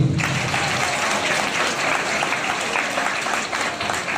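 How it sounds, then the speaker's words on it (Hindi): Dense, sustained clapping from an audience at a Brahma Kumaris de-addiction seminar in Karnal, loud and steady throughout with no gaps. "इनके लिए जोरदार ताली बजाइए।"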